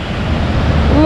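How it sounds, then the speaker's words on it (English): Loud, continuous roar of rushing water with a heavy low rumble, steady throughout like a nearby torrent or river. "The noise of this water is just crazy."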